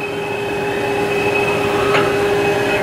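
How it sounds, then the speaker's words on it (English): Haas TL4 lathe from 2008, a 55-horsepower machine with a two-speed gearbox, its spindle turning at 50 RPM while the axes cycle, giving a steady mechanical drone with constant tones and a brief squeal partway through. "We're running the spindle right now at 50 RPM, just cycling the axes"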